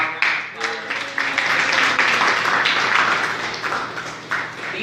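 A small audience at a comic creators panel in D.C. applauds, moderate clapping that swells and holds for several seconds with a few voices underneath.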